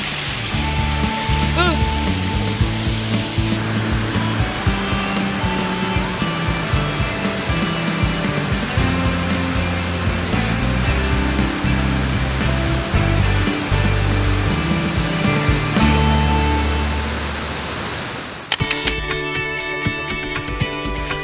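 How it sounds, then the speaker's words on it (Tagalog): Talay Falls, a two-layer waterfall in Laguna, roars as a steady loud wash of water that holds throughout, shifting near the end to a brighter, hissier texture. "Yan na yung Talay Falls. It's a 2-layer waterfalls, di ba?"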